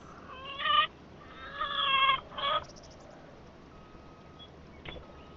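Chickens in Farming Simulator 25 cluck and squawk their egg song in a few loud bursts close by, then fall quieter with a brief call near the end.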